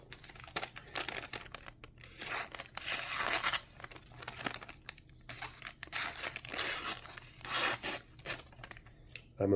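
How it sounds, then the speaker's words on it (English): A Cold Steel Leatherneck large fixed-blade knife slices through receipt paper, giving repeated raspy scraping and crinkling strokes in irregular bursts, close and fairly quiet with brief pauses between cuts. "I'm impressed when a large fixed blade can cut receipt paper"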